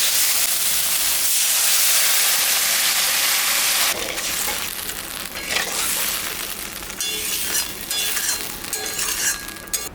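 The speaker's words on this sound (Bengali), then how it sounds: "এখন আমি সামান্য জল দেব।" Fried spice masala sizzles loudly in a pan, then water is added and the hiss shifts to a bubbling, steamy simmer with a faint clink of utensils.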